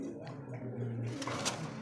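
A racing pigeon coos in a low, steady murmur, close by, through most of the moment, with faint background sounds above it.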